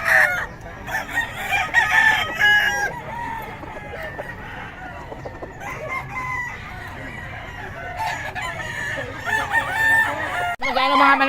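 Roosters crowing and hens clucking at a busy chicken market, several loud, close crows overlapping with steady clucking throughout.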